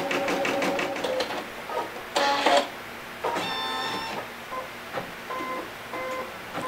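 An embroidery machine stitches the outline of a hardanger-style element on fabric, giving a close, busy run of rapid needle clatter with short pauses and changes in pace, mechanical ticking and whirring throughout.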